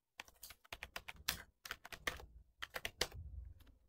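Someone types a folder name on a computer keyboard, quick irregular bursts of close key clicks separated by short pauses, with no voices.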